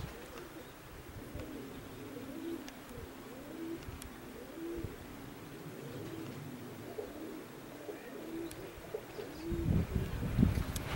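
Roller pigeons at a high mountain roller competition coo repeatedly outdoors, soft rolling calls from several birds over a breezy background.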